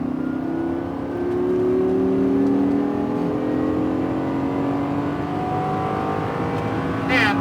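A Lamborghini Gallardo LP560-4 accelerating hard on a race track, its engine note climbing steadily in a loud, sustained drone that rises through the gears, heard from inside the car.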